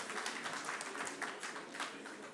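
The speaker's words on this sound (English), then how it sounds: "Yes, a round of applause." Faint, distant applause from an audience at a ministers' signing ceremony during an Africa Day session, a steady patter of clapping with no voices over it.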